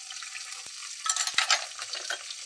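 Green chillies and an inch of ginger sizzle steadily in hot oil in a pan for cashew vegetable wheat rava upma, with a few soft stirring knocks and a brief louder crackle near the middle.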